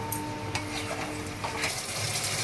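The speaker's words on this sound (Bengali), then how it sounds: "মশলা আমার ভাজা ভাজা হয়ে এসছে, এর থেকে তেলও ছেড়ে দিয়েছে।" Spice paste frying in oil in a pan for Bengali prawn and banana-flower dhoka, a steady close sizzle with occasional stirring scrapes of a spoon against the pan.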